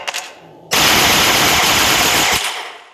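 Proto gun firing in the video game Melon Playground: a few faint clicks, then a sudden loud burst of rapid automatic fire that runs for about a second and a half and stops abruptly, with no voices.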